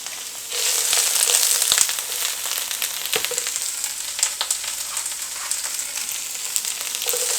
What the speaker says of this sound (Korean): 양배추가 살짝 숨이 적을 정도로 볶아주면서 이 파기름 향도 좀 배게 하고